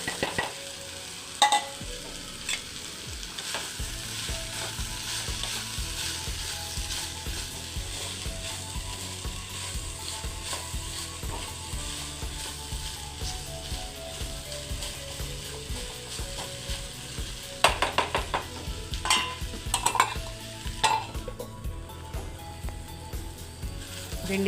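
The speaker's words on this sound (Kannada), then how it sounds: "ಬೆಂಡೆಕಾಯಿಯನ್ನು ಒಂದೇ 1 ನಿಮಿಷ ಮುಚ್ಚಿ ಫ್ರೈ ಮಾಡ್ಕೊಂಡ ನಂತರ ಮುಚ್ಚಳವನ್ನು ತೆಗೆದು ಸ್ವಲ್ಪ ಚೆನ್ನಾಗಿ ಫ್ರೈ ಮಾಡಿಕೊಂಡು" Cut okra frying in a pan for a simple bendekaayi palya, sizzling steadily throughout with a low mechanical hum underneath and clusters of louder scraping stirs toward the end.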